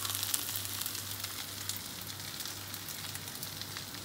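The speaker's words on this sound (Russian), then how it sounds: "После того, как мы начинаем уже жарить рис," Steady crackling sizzle of black rice with kimchi and seafood frying in a hot pan, continuous and fairly quiet, with a faint low hum underneath.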